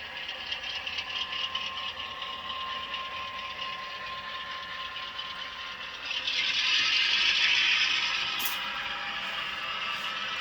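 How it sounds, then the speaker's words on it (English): Walthers Proto GP9 Southern Pacific DCC model locomotive sound decoder playing its dynamic brake effect: a steady mechanical hum that swells into a louder, airy whine about two-thirds through, then eases back, with no talking. "So I'm going to turn on the dynamic brake, and it does work"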